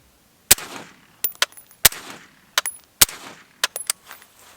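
Suppressed rifle fired through a 3D printed silencer outdoors into dirt, giving three sharp, loud reports with short echoing tails, each followed by quick metallic clicks and clanks of the action cycling.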